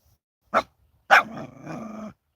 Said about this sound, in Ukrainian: ти чого на малишку гавкаєш, а?